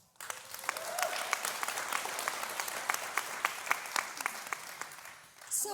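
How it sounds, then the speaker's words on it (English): An audience applauds at a women-in-tech summit in Hollywood, a steady round of clapping with scattered sharp claps that holds for several seconds and trails off at the end. "So, I want to applaud for Penelope."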